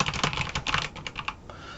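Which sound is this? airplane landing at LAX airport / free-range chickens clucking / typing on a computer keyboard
typing on a computer keyboard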